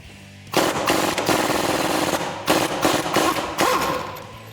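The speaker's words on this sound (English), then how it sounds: "So I'm going to take my 1/2-inch gun with a 21mm," A 1/2-inch impact gun with a 21mm socket hammers on the strut nut of a 2011-2022 Dodge Challenger during a coil-over install. It rattles loudly in two long bursts with a brief pause between them, and no voices are heard.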